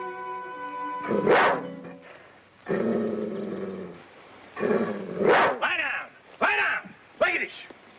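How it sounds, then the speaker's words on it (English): A German police dog in a 1945 film growls and barks in several harsh, snarling bursts separated by brief pauses, loud and near, with people speaking around it. "What kind of dog is he? German. Police dog?"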